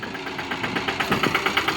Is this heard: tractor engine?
yes